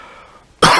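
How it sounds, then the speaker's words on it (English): A single loud cough bursts out after a quiet stretch, from a man with a cold speaking at a tech conference about a Rust peer-to-peer library. "I said I was sick, so I'm going to cough a lot"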